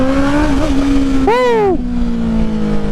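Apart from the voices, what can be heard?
Honda CBR 650R motorcycle revving with new full exhaust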